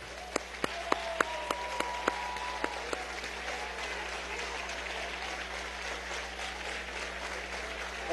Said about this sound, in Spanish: Un aplauso para estas mujeres.